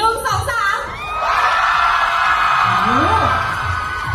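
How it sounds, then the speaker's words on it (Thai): A large crowd of fans at a summer festival stage event screams and cheers together on cue, a loud sustained roar of high-pitched shrieks filling most of the stretch, with a voice calling out briefly at the start. "ขอเสียงกรี๊ดตามความหล่อของพี่บิวกิ้น"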